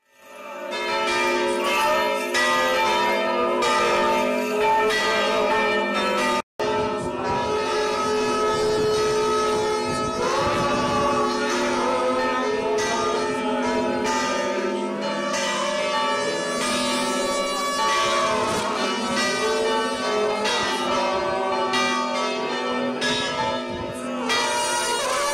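Church bells ring out at a monastery's feast-day celebration, loud and continuous, their rich overlapping tones mixed with a wailing horn-like sound and chanting throughout.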